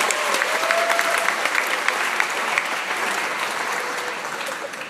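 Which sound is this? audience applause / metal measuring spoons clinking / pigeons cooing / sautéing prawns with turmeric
audience applause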